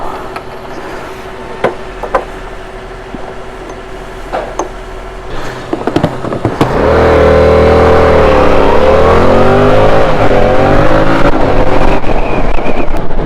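A 2022 Yamaha R7 with its 689cc parallel-twin engine, first faint with scattered clicks and thumps, then roaring up loud and close as the revs climb and waver in pitch, with no talk.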